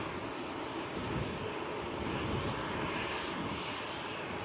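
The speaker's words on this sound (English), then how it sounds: "KLM, nice A321Neo to Amsterdam" KLM Airbus A321neo departing Manchester Airport for Amsterdam, a faint, steady jet engine rumble with a soft hiss on top, heard from afar and alone.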